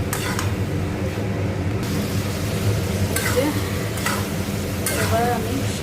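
Fried shrimp and taro stems being stirred in a thick spice masala in a pan, with a steady sizzle and scraping spatula strokes throughout, some strokes sharper and louder than others.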